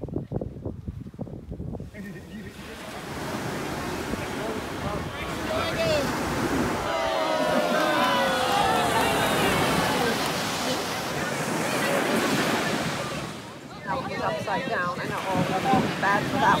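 Ocean surf breaking on a beach near newborn sea turtles in Los Cabos, a steady loud wash of waves with wind buffeting the microphone while people talk over it.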